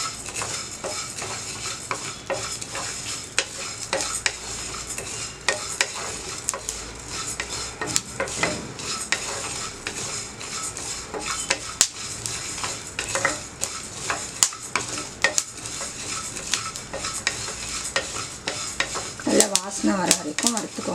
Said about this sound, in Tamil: இது வந்து நல்லா வறுத்து நம்ம எடுத்துக்கலாம்